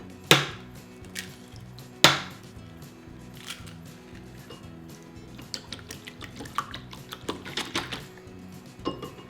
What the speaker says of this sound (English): And then we want to whisk up our eggs here.